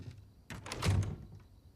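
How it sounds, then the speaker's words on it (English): A door closing in The Last of Us Part II, a short muffled thunk with a brief latch rattle, near and fairly soft against quiet room tone. "He exits, closing the door behind him."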